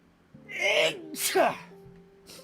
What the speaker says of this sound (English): Makes me sneeze a lot.